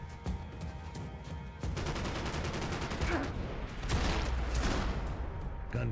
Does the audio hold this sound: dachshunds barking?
no